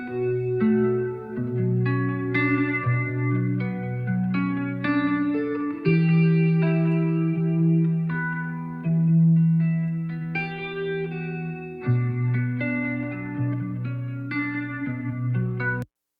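Reverb-drenched electric instrument chords ringing out in sequence, the reverb tails decaying faster on the right side than the left, no voices.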